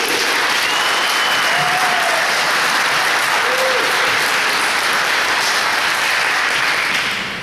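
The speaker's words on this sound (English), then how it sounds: "she deserves credit or applause for that" A crowd at a mayoral candidates' forum breaks into loud, sustained applause, a thick unbroken wash of clapping lasting several seconds with a few faint voices inside it, easing slightly only at the very end.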